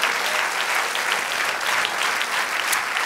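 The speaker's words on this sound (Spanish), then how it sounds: "Dele aplauso al Señor." A church congregation applauds steadily throughout, a dense, even wash of many hands clapping at close range with no talk over it.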